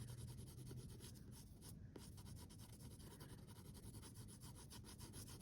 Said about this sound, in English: just shade in using the side of my pencil.